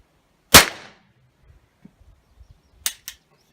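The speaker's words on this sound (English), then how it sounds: "going to fire the suppressor with some reloads" Gunshots fired through a Surefire Ryder suppressor with reloaded ammunition: one sharp, loud report, then a quiet pause and two quicker, fainter pops close together near the end, with no talking.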